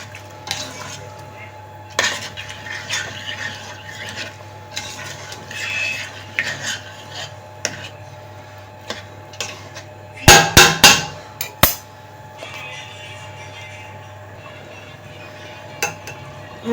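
Kabsa meat stirred in a metal cooking pot with a utensil, giving scraping clinks and a quick burst of sharp metallic knocks partway through, with someone speaking quietly over it.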